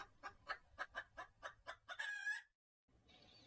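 Cartoon chickens cluck in a quick run of about nine sharp, evenly spaced notes and then a longer squawk. After a short silence, a faint hiss follows.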